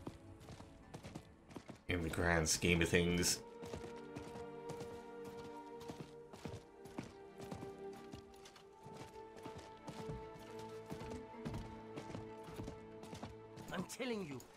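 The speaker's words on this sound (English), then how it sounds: "No, let's hop on the horse." Horse hooves clip-clop in a steady trot while riding in the Diablo 4 video game, with a loud burst of game effects early on and a person talking over the rhythmic hoofbeats.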